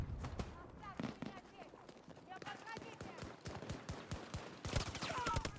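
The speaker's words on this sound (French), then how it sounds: "Ça tire plus que tout à l'heure." Rapid bursts of gunfire in Battlefield 2042 played on mobile via cloud gaming, sharp repeated shots and volleys throughout, with a voice talking over the action.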